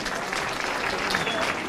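A large crowd at a public municipal event in Siirt claps steadily, a thick and continuous roar of hands with a faint voice mixed in.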